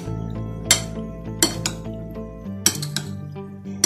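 A spoon clinks against a bowl and plate as macaroni salad is moved onto a serving plate: a few sharp, bright metallic taps spaced a second or so apart, close by, with no one talking.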